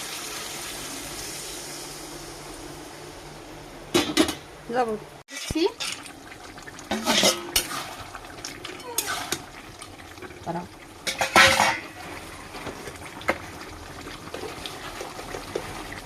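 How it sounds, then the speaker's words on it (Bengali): Hot water trickles and splashes into a pot of mixed vegetables cooking for a vegetarian curry, a soft, intermittent pour with clinks of the pot, while a person talks quietly over it. "এখন একটু গরম জল দিয়ে দিচ্ছি এর ভিতরে"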